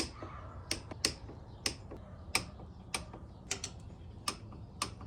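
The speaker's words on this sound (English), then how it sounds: "Got my 1/2-inch socket, 3/8 torque wrench set to 28 foot-pounds." A 3/8-inch torque wrench set to 28 foot-pounds clicks while tightening the front brake calipers of a 2017 BMW S1000RR, giving about a dozen sharp, close mechanical ticks at an uneven pace over a quiet background.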